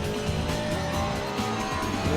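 A Porsche race car in a racing video game roars at high revs as it runs wide over the curb, a loud continuous engine note with tire noise.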